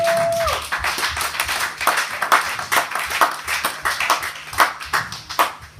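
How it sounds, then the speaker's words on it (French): A church congregation at an evangelical service claps together in a steady rhythmic beat of many hands, loud and sustained with reverberant room sound and faint cheering. "Est-ce qu'on peut acclamer pour la parole?"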